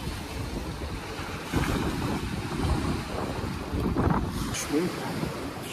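Sea waves wash in and out at Dahab, heard from a seaside cafe with a steady broadband surf roar and gusty wind buffeting the microphone, with no clear individual breakers.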